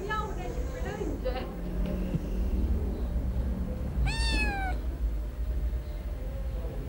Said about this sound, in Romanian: El miaune și plânge.